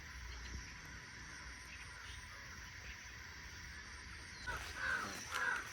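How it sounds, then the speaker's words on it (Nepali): Crows caw a few times in a village setting, the calls coming loud toward the end over a steady background hum. "काग चाहिँ निकै करायो"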